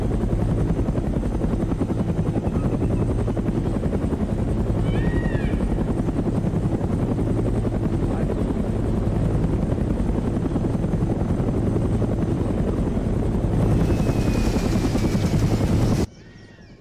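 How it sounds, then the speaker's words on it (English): Military helicopter in a Vietnam War video game, either a Blackhawk or a Huey, with loud continuous rotor and turbine roar that cuts off abruptly near the end. "are we exfiltrating on this Blackhawk? Or, well, Huey or no?"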